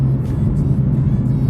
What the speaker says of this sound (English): This twin turbo 6, I mean, such a great engine